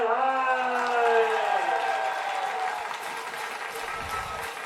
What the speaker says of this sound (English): a big cheer and a round of applause goes up around the ground for Jamar Campion Hines